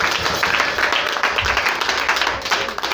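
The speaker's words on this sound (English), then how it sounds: "Clap for Jesus." A church congregation claps together in a dense, steady patter of many hands that fills the room at close range for the whole stretch.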